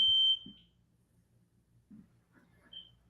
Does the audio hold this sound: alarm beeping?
yes